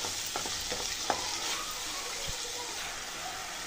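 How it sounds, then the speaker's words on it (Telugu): Chopped tomatoes stirred and cooking in a pan for chicken biryani, a steady sizzle with a few soft scraping stirs near the start, close and moderately quiet throughout. "ఈ టమాటాలని కూడా కలుపుకొని బాగా మగ్గేంత వరకు కుక్ చేసుకోవాలి"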